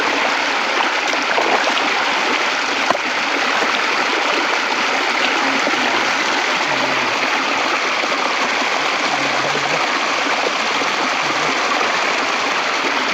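Water pouring out of a pipe in a rice field, a steady, close rushing flow that continues without a break, with no talking.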